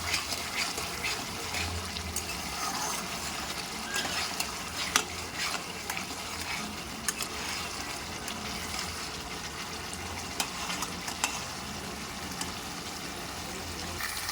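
A thick masala cooked down with sour yogurt is stirred and fried in a pan for a yogurt katla fish curry, giving a steady low sizzle with soft scraping throughout and a few sharper clicks of the spoon.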